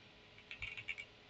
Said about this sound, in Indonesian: Misalnya kita ketikkan sembarang